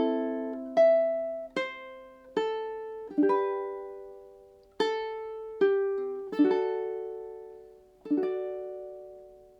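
Ukulele plucked and strummed through a few measures of a song, about ten separate chord strikes each ringing out and decaying, clear and close with no talking.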